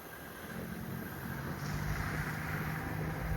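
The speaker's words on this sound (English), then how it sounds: "Just don't want to be in the way of that tractor." A tractor engine rumbles along a ravine hiking trail, a low steady drone that grows slightly louder as it nears, with wind noise on the microphone.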